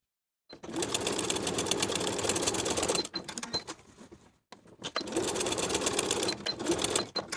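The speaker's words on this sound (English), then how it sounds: "Pin the top and side edges of the pockets to the pant and baste in place." A sewing machine basting jeans pockets (Butterick 6327 pattern) runs in two steady, close stitching bursts of a few seconds each, separated by a brief slower, quieter stretch and a pause.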